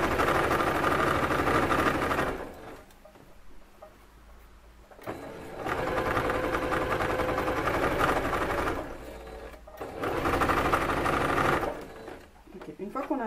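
Sewing machine running in bursts while stitching a straight seam in fabric about 1 cm from the edge, its steady mechanical whir starting and stopping three times, loud and close, with a voice talking during the pauses.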